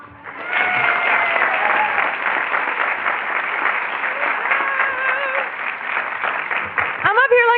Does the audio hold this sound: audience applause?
yes